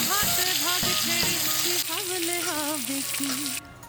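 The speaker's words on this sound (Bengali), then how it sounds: "তারপর আমি চিংড়ি মাছটাও ভেজে নিলাম" Prawns fry in a hot pan for a Bengali prawn khichuri, a steady loud sizzle running throughout while a voice talks over it in a melodic, sing-song tone.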